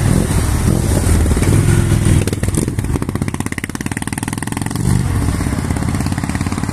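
Motorcycle engine revving hard and accelerating up close on a road ride, loud throughout with a choppy, pulsing stretch midway before the roar builds again.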